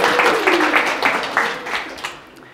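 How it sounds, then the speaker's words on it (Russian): An audience applauds a new tester joining the pizzeria design team, with steady, fairly loud clapping that swells and then fades over a few seconds. "Давайте похлопаем."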